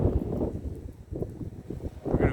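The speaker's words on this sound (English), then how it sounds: "here comes the wind, so I hope this video is not too windy" Wind gusts buffet an outdoor microphone, producing a low rumbling, uneven roar that swells and fades across the whole stretch.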